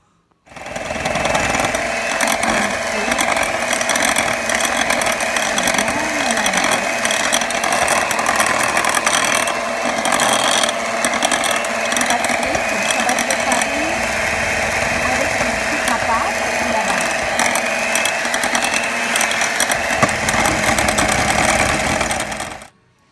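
Electric mixer blending melted chocolate with butter for a soft chocolate cake, a steady loud motor whir running continuously for about twenty seconds with no talking.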